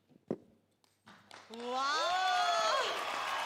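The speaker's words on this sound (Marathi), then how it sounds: "Standing ovation. जोरदार टाळ्या होऊन जाऊन दे." An audience on a televised dance competition breaks into a standing ovation: a few scattered knocks, then sustained loud applause with raised, cheering voices swelling over it.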